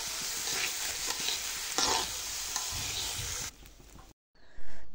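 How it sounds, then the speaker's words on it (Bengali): Pulao rice crackles and sizzles as it fries in hot oil in a pan, with steady stirring scrapes throughout, loud and close, before it cuts off briefly and returns with a short burst at the end. "এখন এই তেলের মধ্যে চালটাকে 5-6 মিনিটের মতো ভেজে নিচ্ছি।"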